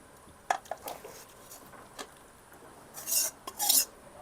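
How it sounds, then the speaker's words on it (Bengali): Bele fish curry in a thin cumin-paste gravy tipped from the pan into another pot, heard as scattered metal clinks and scraping, then two longer bright rasping scrapes near the end, close and fairly quiet with no talking. "এখন ঢেলে নেব আরেকটা পাত্রে"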